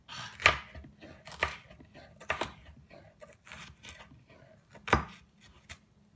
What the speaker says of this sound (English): watch how thick the cut is going to be before you actually cut through it